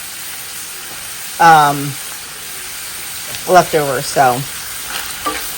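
Ground beef browning in a skillet for lasagna, a steady soft sizzle running under a person's voice speaking in short phrases nearby.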